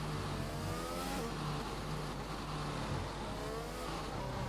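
A race car in a racing video game accelerates hard at the Spanish round of a league race, a constant buzzing engine drone with rising harmonic sweeps running without a break and fairly faint in the mix.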